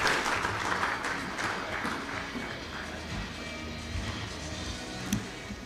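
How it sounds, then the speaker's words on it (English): Audience applause at a business summit in Bengaluru welcomes a speaker to the stage, moderately loud at first and then thinning to a softer, steady patter. "A big round of applause to Dr."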